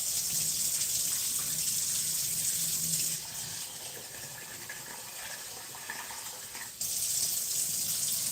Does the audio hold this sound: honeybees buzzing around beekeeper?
no